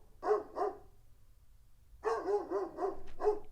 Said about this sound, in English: my dog is just going crazy out there